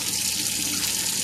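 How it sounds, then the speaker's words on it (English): Tap water runs steadily as a glass is filled while snake egg boxes are being prepared, a continuous close hiss and splash with no talk. "Get a glass of water here."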